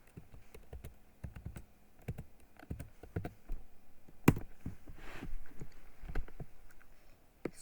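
Close, fairly quiet computer keyboard typing, a steady run of light clicky keystrokes with short pauses, one sharper click partway through, over faint room noise.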